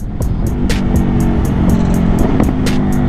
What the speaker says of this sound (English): Oh my goodness, though, that downshift.